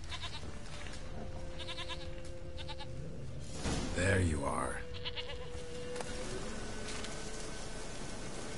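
A goat bleats in The Witcher 3: Wild Hunt, one loud wavering bleat near the middle over quiet game ambience, with a person speaking briefly before it.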